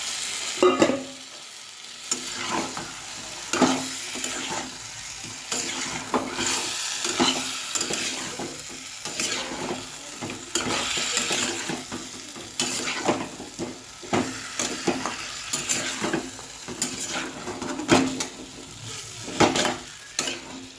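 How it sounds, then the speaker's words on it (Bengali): Fish pieces fry in a pan over a white cumin tempering and are stirred with a utensil, a loud close sizzle broken by repeated scraping and clattering strokes over about twenty seconds, with no voices. "এবারে আমি মাছটা সবের মধ্যে দিয়ে দিলাম।"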